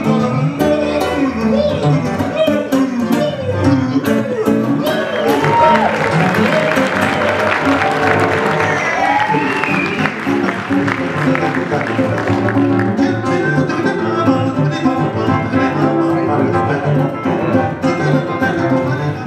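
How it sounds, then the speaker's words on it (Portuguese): A theatre audience at a midday music festival concert in the Teatro Municipal applauds an improvised duo performance, sustained clapping from a crowd that swells and fades beneath a voice talking over it. "Na base do improviso, a dupla foi bastante aplaudida pelo público"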